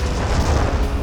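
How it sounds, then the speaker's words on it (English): Dynamite detonates in a lake and throws a huge plume of water into the air. The result is a loud, continuous broadband roar of blast and falling spray that fills the whole moment. "I think that's my new favorite explosion."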